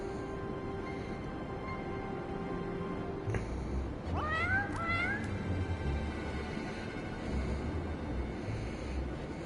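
A cat in the video game Final Fantasy XIV gives one drawn-out, rising meow partway through, heard over a constant background hum and ambient music, with no talking.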